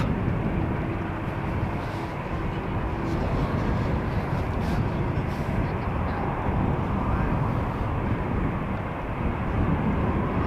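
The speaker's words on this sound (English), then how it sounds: "Once the wake turbulence of the triple has dissipated, it's going to get clearance for takeoff." Steady, loud jet roar of an airliner at Amsterdam Schiphol Airport, a dense continuous rumble holding at an even level throughout with no talking.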